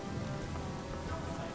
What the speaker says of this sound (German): Aber es regnet.